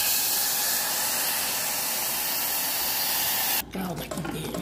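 Water is poured into melting sugar syrup for rice pudding, giving a loud, dense hiss and sizzle that abruptly drops to softer bubbling near the end.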